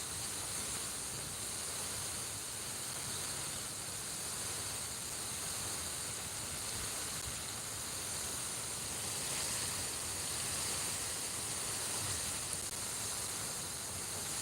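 Constant broad hiss of water spraying from a garden hose on a hot day, close and even for the whole stretch without pauses, no voices.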